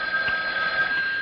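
A telephone rings with a steady electronic trill that is heard alone and fairly close, with no voices over it.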